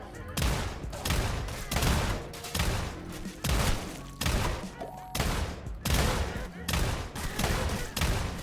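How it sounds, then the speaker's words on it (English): Automatic gunfire with homing bullets in a video game, a dense run of rapid shots in steady bursts with brief gaps, loud and continuous throughout. "It only works because of the homing bullets, and I still have to stop shooting for a second."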